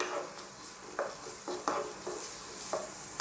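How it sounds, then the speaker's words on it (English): Chopped garlic and onions sizzle steadily in a hot pan as the base for a chicken mac and cheese sauce, with a handful of sharp stirring scrapes breaking through the close, continuous frying hiss. "going to start off by dropping in that little bit of chopped garlic along with our onions"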